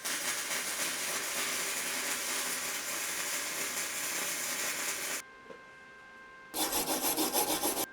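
A DuraTech 140-amp MIG welder laying a weld bead on steel plate, a steady loud crackling hiss that cuts out briefly and then resumes, close and without talk.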